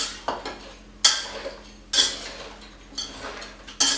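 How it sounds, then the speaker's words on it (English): Marinade for pulled pork being mixed, with a utensil striking a bowl in four or five sharp, evenly spaced clinks and scrapes, close and fairly quiet, no talking. "And then you mix this even for the meat."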